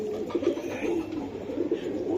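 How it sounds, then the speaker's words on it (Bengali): A pair of silver Giribaz pigeons coo nearby in repeated low, rolling throaty calls, the phrases overlapping slightly with no speech heard. "এই যে ডাকতেছে কবুতর জোড়াটা"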